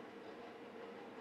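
A train rolls past somewhere in the background, a steady low rumble with a faint clickety-clack of rail cars, continuous and unchanging throughout with no voices.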